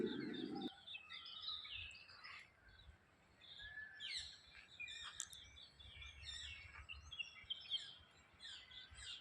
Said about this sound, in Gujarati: ત્યાં અંદર એન્ટર થતાં પહેલાં ફક્ત આ પક્ષીઓનો અવાજ સાંભળવાની કંઈક અલગ જ મજા